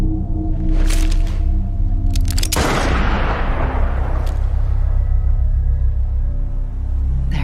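Single gunshot in a Death Stranding video game cutscene, one sudden loud boom that decays into a long rumbling tail over a steady low drone, preceded by bursts of noise.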